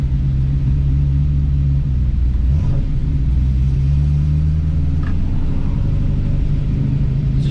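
A 1978 Roadster Shop Trans Am produces a loud, close engine rumble that swells briefly as it revs, then settles into a steady low drone as the car pulls away.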